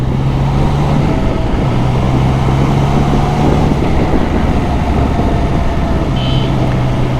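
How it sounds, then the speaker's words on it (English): A Triumph Trident 660 motorcycle engine hums at low revs while riding in fifth gear, a steady drone under a constant wash of wind and road noise, with no voices. "I still have to get used to of the sound of this engine."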